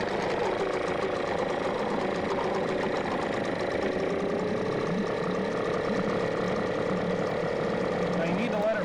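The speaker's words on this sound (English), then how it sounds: "And we'll start the motor." A small outboard boat motor with its cowl removed runs steadily close by, a continuous busy mechanical drone with rapid ticking and knocking and no pause.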